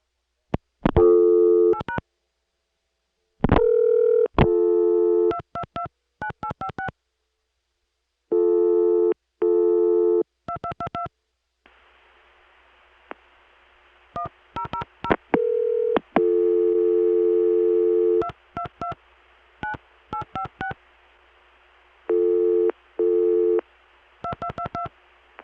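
Touch-tone dialing on a Chicago telephone line, area code 312: crisp clusters of keypad beeps in quick rhythmic bursts, broken by a long steady dial tone and short repeated signal tones, loud and close with no voices.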